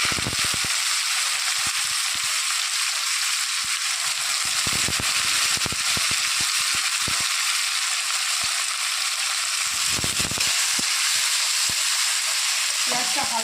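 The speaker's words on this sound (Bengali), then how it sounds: "পেঁয়াজটা হালকা করে ভেজে নেব।" Chopped onions fry in hot oil for a Bengali chicken kosha, a steady loud hiss and crackle running throughout with scattered sharper pops and a few brief stirring bumps.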